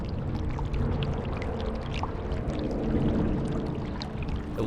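A small indoor fountain splashes steadily in an empty shopping mall, giving a continuous close wash of falling water with no voices over it.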